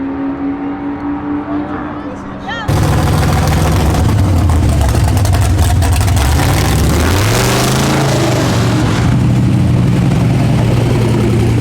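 A big block 454 V8 car engine idling at a racing event, a loud, steady low rumble that swells slightly in pitch midway, with some voices in the background.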